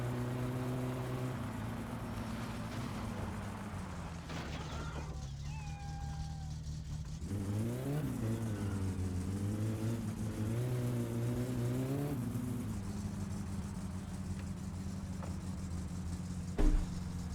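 In the video game My Summer Car, a car engine drones steadily at low pitch, climbs in revs around the middle with a rising, wavering whine, then settles back to a constant hum.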